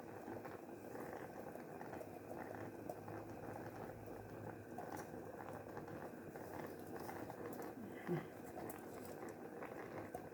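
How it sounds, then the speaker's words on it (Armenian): A pot of chopped peppers and vegetables for a winter preserve simmers with a soft, continuous bubbling and patter, faint and steady, with a small clink partway through. "թող բոլորը միասին եփեն"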